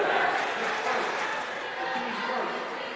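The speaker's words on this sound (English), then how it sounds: "Altamont fans cheer at that foul on Marlowe" Altamont basketball fans cheer a foul call at a 1A regional high school game against Webber, a broad roar of crowd voices filling the gym, sustained and loud, fading slightly over a few seconds.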